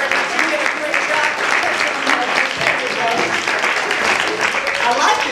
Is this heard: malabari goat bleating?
no